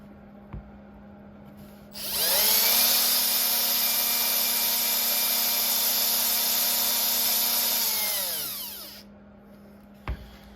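A cordless drill drives screws into a Losi LMT RC truck axle in one sustained whirring burst lasting several seconds, winding down at the end, with a low steady hum and a couple of faint clicks before and after.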